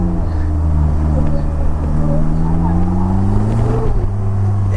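A Polaris Slingshot three-wheeled vehicle drives past close by with a loud, steady engine drone that gradually climbs in pitch, continuous throughout.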